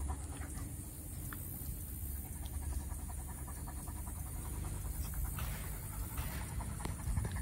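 Two dogs locked together after mating pant in quick, steady rhythm, fairly soft and continuous throughout with no talking.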